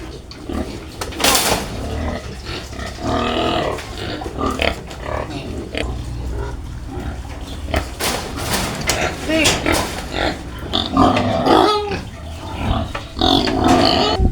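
Pet pigs on a farm grunt and squeal excitedly while being fed Madre de Agua fodder, their noisy oinks rising and falling over steady background sound, with people talking nearby.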